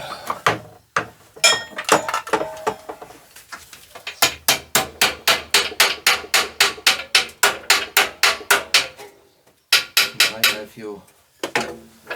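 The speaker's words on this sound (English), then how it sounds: "And you take your hammer." Steady, rhythmic hammer blows ringing on a thin metal bread pan, a quick run of sharp clanks with brief pauses between bursts.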